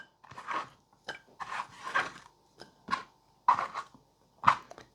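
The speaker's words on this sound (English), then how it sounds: "we're going to start with red pepper. Just cut it into strips like that." A knife slices a red pepper into strips on a cutting board, making a string of short, crisp scraping cuts in an uneven rhythm, close and clear, separated by brief silences.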